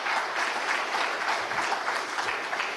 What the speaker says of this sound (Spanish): Yo pido para ti un aplauso realmente.